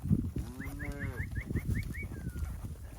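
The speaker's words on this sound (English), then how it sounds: "we're just getting these cows bunched and headed them toward the highway" A herd of cattle being bunched and driven across rough country toward a highway by riders on horseback; one drawn-out moo rises over steady outdoor rumble, with chirping birds behind it.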